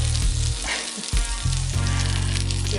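Butter sizzling loudly in a pan as buttermilk biscuits fry, a dense continuous crackle close up with a brief dip and a few scrapes, no voices.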